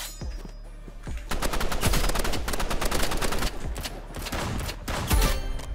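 Rapid assault rifle bursts mixed with heavy shotgun blasts from the Roblox Rivals shooter game, loud and close, firing in dense volleys almost continuously, with no talk.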